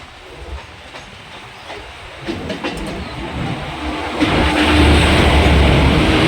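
A MEMU passenger train departs Ambattur station near Chennai, its rumble and wheel clatter building from a modest level to a loud, steady roll as it gathers speed.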